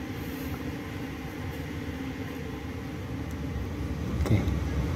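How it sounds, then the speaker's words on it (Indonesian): An economy passenger train pulls out of Kebumen station, a low steady rumble of engine and wheels that swells slightly toward the end, fairly distant with no voices. "PSE Solo diberangkatkan dari stasiun Kebumen."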